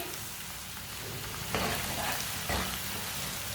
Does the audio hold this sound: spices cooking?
yes